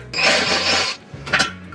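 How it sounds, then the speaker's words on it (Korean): Screws are backed out of the case of a Samsung Grande top-load washing machine, producing a loud close rasping, grinding turn lasting most of a second, a pause, then a shorter second rasp. "안쪽에서 수직으로 조립되어 있는 나사 2개를 분해해줍니다."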